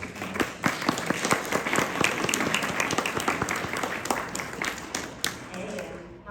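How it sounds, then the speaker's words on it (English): Audience at a school board candidate forum breaks into applause, sparse sharp claps at first that thicken into a steady round, then fade as a voice begins speaking. "Let's give a big round of applause for both."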